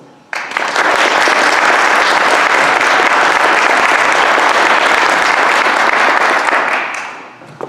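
An audience breaks into sustained, steady applause as a speaker is welcomed at an evening church speaker series, the clapping loud and dense for about seven seconds before tapering off.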